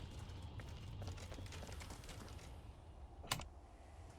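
Fingers type on a computer keyboard in a rapid, continuous patter of soft clicks over a low background rumble, with one sharper isolated click near the end.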